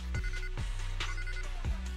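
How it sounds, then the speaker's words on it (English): A telephone rings in the video game Zenless Zone Zero, its electronic ringtone repeating in steady, evenly spaced bursts over a continuous musical background, loud and close with no talking. "Oh, phone call."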